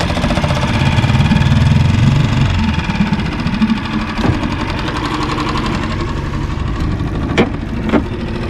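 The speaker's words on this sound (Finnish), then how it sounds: "lyö moottori käyntiin." A new Tohatsu outboard boat motor starts and runs steadily, a loud, continuous engine drone with rough, knocking texture and a few brief clicks, no talking over it.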